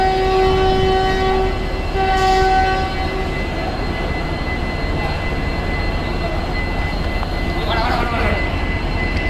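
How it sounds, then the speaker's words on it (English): Train pulling away on a railway journey between Dindigul and Chennai Egmore, with a loud continuous rumble of wheels and carriage, steady tonal hums and brief squeals, heard from on board. "So the train has started."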